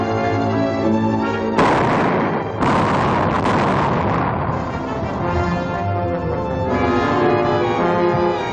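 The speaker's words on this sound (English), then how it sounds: "Nothing but a sound like a tremendous explosion" A tremendous explosion rendered as a 1940s radio drama sound effect: a sustained, loud rumbling blast with crackling bursts that roll on for several seconds without letting up.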